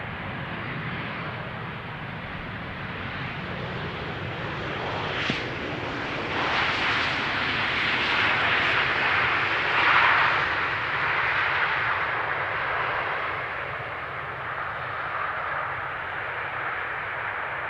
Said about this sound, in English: It is one of Transavia's many 737s.